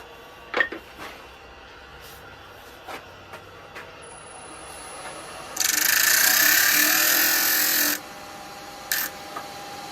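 Sanding a wooden Christmas scene piece on a wood lathe: a loud, hissing abrasive burst lasts about two seconds, framed by scattered light taps and clicks in an otherwise quiet workshop.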